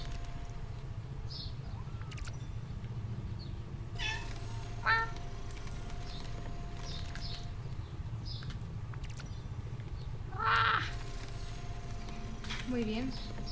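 Cat in the video game Spiritfarer gives a few short meows over a steady hum of game ambience and music, with faint clicks scattered through.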